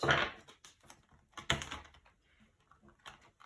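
A deck of tarot cards is shuffled by hand: quick papery riffles and slaps in bursts, close and moderately loud, then a quieter patter.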